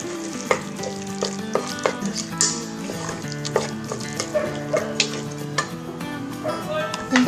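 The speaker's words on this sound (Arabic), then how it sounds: "دابا غادي نضيف مطيشه اللي حيدت ليها الزريعه ديالها وعاد حكيتها في حكاكه غليظه، نشحرها مع هذا البصل" Grated, deseeded tomato sizzles and fries with onion and garlic in a pan for Moroccan lentils with carrots, with steady crackle and repeated scrapes and clinks of a spoon stirring close by.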